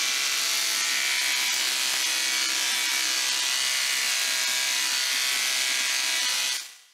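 Electric clippers buzz steadily at close range while shaving a horse's coat, a constant high whirr with faint rubbing textures, before the sound fades out at the end.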